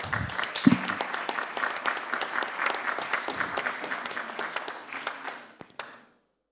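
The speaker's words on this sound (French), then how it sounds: "Je pense qu'on peut applaudir pour Olivier Dubois, s'il nous entend." A conference audience of French professional organisations bursts into steady applause, dense clapping filling the room for about five seconds before tapering off with a few last isolated claps.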